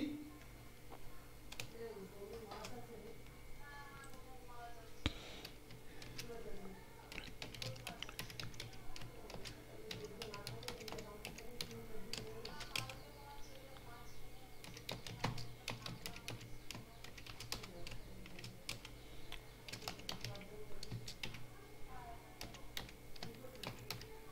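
A computer keyboard clatters steadily as C code is typed, with fast, irregular key taps running throughout at low level under faint intermittent talk.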